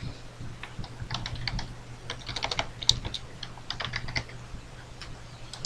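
Fingers type a search on a computer keyboard, producing quiet, irregular clusters of key clicks with short pauses between bursts, close and alone.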